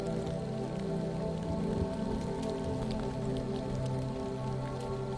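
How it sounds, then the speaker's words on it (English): Storm rain pounding on the wooden walls of a cabin at night, a dense, continuous patter with scattered distinct drops and a low rumbling undertone, steady throughout with no voices. "And the rain pounded fiercely on the cabin's wooden walls."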